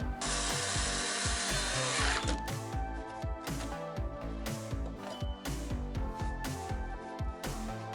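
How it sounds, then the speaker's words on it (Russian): A power screwdriver drives self-tapping screws through an electrical panel box into an aerated concrete block wall: a sustained whirring burst at the start, then a run of rapid short bursts and clicks, close and fairly loud. "Взял саморезами, просто к стене прикрутил и готово."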